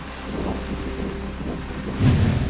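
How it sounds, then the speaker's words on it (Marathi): Heavy monsoon rain pours in a dense, continuous wash while a deep rumble of thunder rolls underneath and swells toward the end, loud and close with no voices. "विजांच्या कडकडाटासह मुसळधार पावसाची हजेरी"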